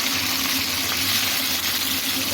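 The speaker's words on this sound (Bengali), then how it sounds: "মাছের মুড়োগুলো আমি লাল করে ভেজে নেব" Chitol fish heads fry in hot oil, giving a loud, continuous close-up sizzle and crackle with no break throughout.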